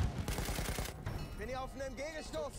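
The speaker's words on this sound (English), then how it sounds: "who's shooting you?" Battlefield 1 gunfire crackles in rapid bursts of automatic fire at the start, followed by a voice talking over the game's background noise, all fairly quiet.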